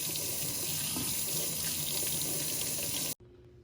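Warm tap water runs steadily from a faucet over a lime-coated egg being rinsed in a sink, a loud continuous splash that cuts off abruptly near the end.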